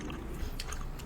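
A close bite into a medium-rare steak during a mukbang, followed by soft wet chewing, brief and near, with no talk.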